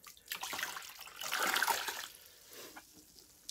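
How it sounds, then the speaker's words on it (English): Water drains noisily out of a travel trailer toilet as pink antifreeze is flushed away during winterizing, a rushing gurgle that swells through the middle and fades to a trickle. "I go ahead and drain the pink water out of the toilet."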